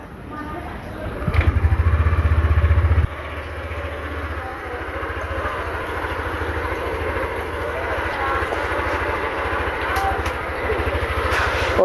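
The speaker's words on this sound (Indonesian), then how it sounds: "jangan lupa kalian panasin dulu motornya, maksudnya dinyalain mesinnya ya, biar dia bersirkulasi" A Yamaha NMAX scooter engine runs to warm up after an oil change, a steady low idle with a brief louder rev near the start, then a continuous even hum.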